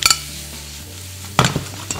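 Sea scallops drop into a hot pan already holding seafood such as calamari and grouper, with a sharp clink and hiss of sizzling at the start and again midway, close and fairly loud.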